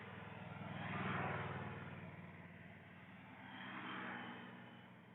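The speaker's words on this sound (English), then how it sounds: "it's nice to hear the occasional car passing, honking a horn" A car passes on a nearby road outside, a low steady rumble that swells and fades twice, faint and distant, with no voices over it.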